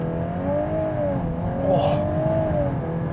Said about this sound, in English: now it's time to see how fast we can get this car to 100